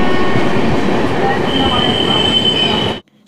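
The 12354 Lucknow-Howrah Super First Express runs near Varanasi on the way to the Ganges bridge with a loud, steady rumble and a high metallic wheel squeal, then cuts off abruptly.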